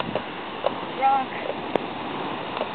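A rock tossed into the water at Horseneck Beach lands with a single brief plunk and splash, over a steady hiss of surf and wind outdoors.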